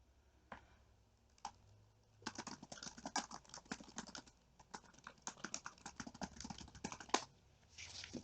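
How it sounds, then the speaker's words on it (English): A computer keyboard is typed on in quiet bursts of soft clicking keystrokes, irregular and fairly faint, with short pauses between runs. "Let me type for a sec."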